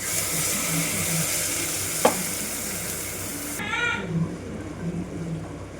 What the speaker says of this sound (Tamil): சீரகம் வெங்காயம் பச்சை மிளகாய் இதெல்லாம் போட்டு வதக்கிட்டுருக்கேன்